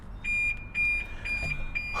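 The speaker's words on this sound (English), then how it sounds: "Eventually the alarm tired itself out" BMW car alarm going off in a repeating pattern of loud, shrill electronic beeps, roughly four per second-long cycle, close by and alone with no talk.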